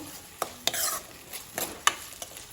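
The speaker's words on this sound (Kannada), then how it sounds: "ಇದನ್ನು ಸೇರಿಸ್ಕೊಳ್ತಾ ಇದ್ದೇನೆ ಇದನ್ನು ಚೆನ್ನಾಗಿ ಫ್ರೈ ಮಾಡಿಕೊಡ್ಬೇಕು" Chopped medium-sized tomato stirred and fried in a pan for a banana-stem style raw plantain fry, with a steady sizzle under sharp scraping clinks of a spatula against the pan, close and unaccompanied by speech.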